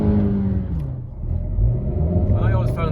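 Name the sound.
Honda Vezel 1.5 VTEC car accelerating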